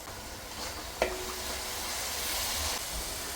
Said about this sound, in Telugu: ఈ ఆనియన్స్ కూడా చక్కగా గోల్డెన్ బ్రౌన్ కలర్ వరకు ఫ్రై చేసుకోవాలి